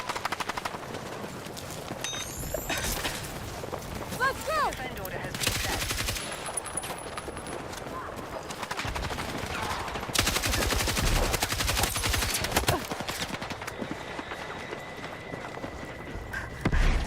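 Assault rifle gunfire in the video game Battlefield 6: repeated dense automatic bursts crackle loudly through the stretch, mixed with a constant battlefield din and faint distant shots.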